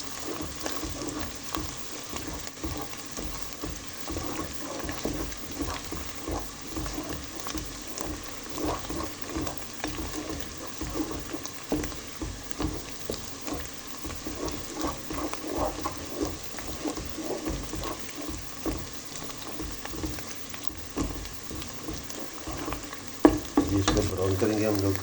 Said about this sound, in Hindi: हमने प्याज ऊपर रख दिया है और थूम, अदरक, हरी मिर्च ये सब इसमें हमने डाल दिया है और अब इसको ब्राउन करेंगे हम लोग